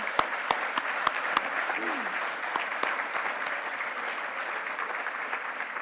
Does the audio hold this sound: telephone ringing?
no